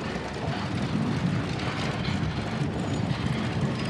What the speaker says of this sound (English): This is Rod Gaffrey on a Rumley tractor.